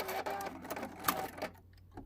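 A sewing machine blanket-stitching green thread on fusible appliqué quilt blocks, running in short rapid mechanical bursts, close and clear, then stopping near the end.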